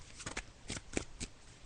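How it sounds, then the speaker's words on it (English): A deck of tarot cards being shuffled by hand in a few quick riffling bursts, close and fairly quiet, with brief pauses between them. "So I'm just shuffling the cards now, Margaret."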